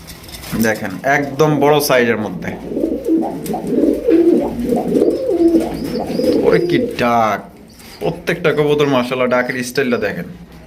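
Pigeons coo in low, throaty bursts close by at a pigeon sale, mixed with people talking loudly over and between the calls.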